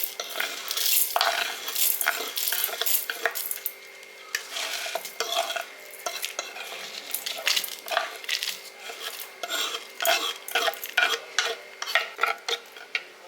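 Cooked chutney ingredients scraped and spooned from a pan into a mixer jar, a series of close scraping, tapping and stirring sounds of utensil against metal, moderately quiet with no talking.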